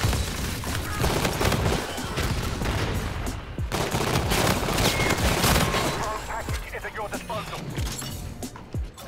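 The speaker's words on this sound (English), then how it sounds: "Someone getting shot at." Heavy gunfire rattles through a first-person shooter DLC match, with dense overlapping bursts and booms running almost continuously near and loud, briefly dipping around the middle before resuming, while a player talks over it.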